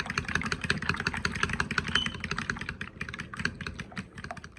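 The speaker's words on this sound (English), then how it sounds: "I'm just gonna use the fork to give my egg a good whisk." A fork whisks an egg in a bowl for Jamaican escoveitched shrimp batter: fast, steady clicking strokes close up and fairly loud, with no talk.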